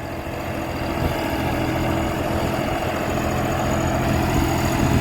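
A New Holland 5620 CRDI tractor engine runs steadily in Eco Plus mode at about 1800 rpm in second gear, pulling a rotavator; a continuous close, loud diesel drone with low rumble and no break throughout.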